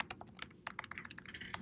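Rapid typing on a computer keyboard, a close, steady patter of clicky keystrokes in quick irregular bursts, heard alone without any voice.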